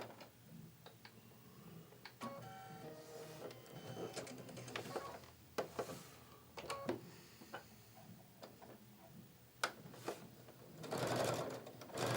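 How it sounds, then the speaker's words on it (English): Sewing machine stitching a quilt panel runs in short rattling bursts with pauses between, close and fairly quiet, ending in a louder run. "We'll sew that right there."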